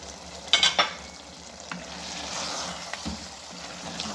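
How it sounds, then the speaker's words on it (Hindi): Julienned ginger and aloo keema fry in a karahi with a steady, close sizzle, broken by a few sharp scrapes and clinks of stirring near the start. "अब हम इसके अंदर जुलियन अदरक हमने डाल दिए और इसको भूनेंगे।"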